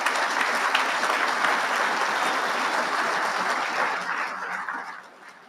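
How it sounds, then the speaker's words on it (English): An audience at a military awards dinner applauds in a dense, sustained wash of clapping that holds steady and then fades out toward the end. "a round of applause for Chief Petty Officer Blassie"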